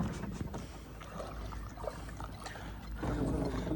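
A boat moving across the water of Mangla Dam near Mirpur, Azad Kashmir, makes a steady low rumble with washing, splashing water. The sound is continuous and fairly close, and it swells slightly louder toward the end.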